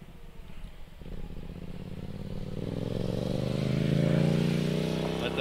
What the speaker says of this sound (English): Let the loud motorcycle go by.